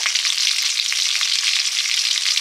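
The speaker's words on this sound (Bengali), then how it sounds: "তেল দিয়ে শুকনো লঙ্কা দিলাম জিরে" Dried red chili and cumin seeds dropped into hot oil for a Bengali snakehead fish dish, giving a dense, steady, hissing sizzle that stays loud and even throughout with no voices.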